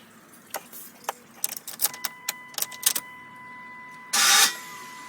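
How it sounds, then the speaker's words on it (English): A 1999 Chrysler 300M with a faulty starter gives a series of sharp clicks and rattles. A short, harsh grinding burst follows as the starter catches on the crankshaft, close and fairly loud. "the starter grinding on the crankshaft"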